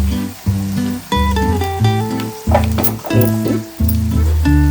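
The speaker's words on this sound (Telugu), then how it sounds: "ఈ వేయించిన ఉల్లిపాయ, పచ్చిమిర్చిలో అల్లం వెల్లుల్లి పేస్టు" Ginger garlic paste sizzles loudly in hot oil with fried onion and green chillies, a steady close frying hiss broken by stirring clatter and a brief spoken word over a strong musical backing.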